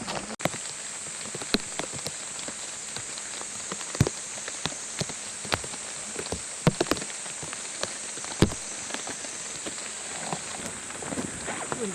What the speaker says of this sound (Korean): 비가 와가지고 좀 그러네.